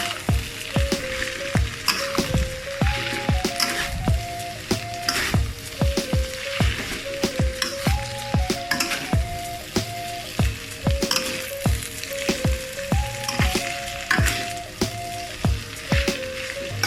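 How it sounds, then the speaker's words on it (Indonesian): A spatula stirs fried rice noodles with bean sprouts in a hot pan, making a steady sizzle broken by rhythmic scraping strokes. The sound is close and continuous, with no talking. "Aku taruh tauge, aku aduk lagi ya guys ya."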